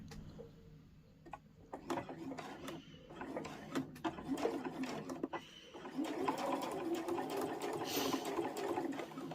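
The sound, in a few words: sewing machine stitching around a fabric tray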